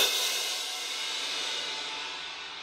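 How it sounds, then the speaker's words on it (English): A single loud crash of orchestral cymbals struck together, heard here as a bright, sustained metallic wash that shimmers and slowly decays over about three seconds, with no other sound. "And then we'll take a look at the cymbals here"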